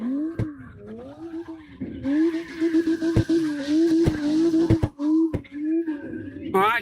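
Car drifting in CarX Drift Racing Online, with a wavering engine note rising and falling under sustained tire squeal and skidding and occasional sharp clicks, while a voice talks in places.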